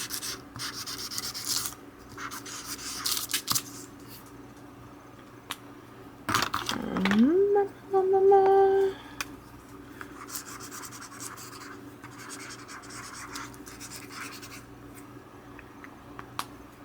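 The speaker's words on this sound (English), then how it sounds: "Marker on parchment." A cheap marker scratches and rubs across parchment in short strokes, faint and close, with a few brief squeaky tones partway through.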